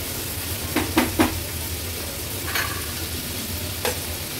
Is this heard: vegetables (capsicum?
yes